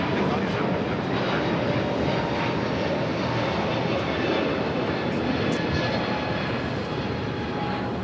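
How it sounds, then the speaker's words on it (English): A United Boeing 777-200 airliner takes off at LAX, its engines giving a loud, steady, broadband roar that holds throughout without fading. "We also have a United 777-200, flight 3782, will be taking off to Newark"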